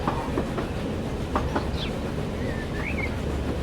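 An express train rolls along the track in the Transport Fever 2 railway simulation game, a steady loud rumble with rhythmic clickety-clack over the rails and faint birdsong chirps above it, no voices present.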